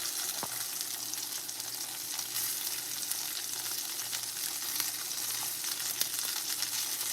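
Hamburger patties sizzle on a hot cooking surface, a steady, moderately loud hiss and crackle that carries on unbroken with occasional small pops, and no one talks.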